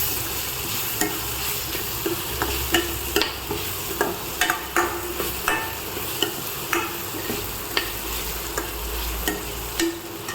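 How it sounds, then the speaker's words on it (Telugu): Ivy gourd curry with chili powder being stirred in a pan, a steady sizzle broken by repeated sharp scrapes and clicks of the spatula at an even rhythm, close and clear with no talking. "నెక్స్ట్ మిక్స్ చేసుకుంటున్నాము."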